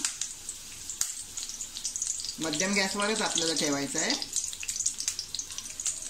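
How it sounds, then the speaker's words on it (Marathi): Curry leaves sizzle in hot oil with a soft crackling spatter throughout, while someone speaks over it in the middle. "तेल छान तापले आपलं. आता आपण ही 7-8 कढीपत्त्याची पानं टाकूया."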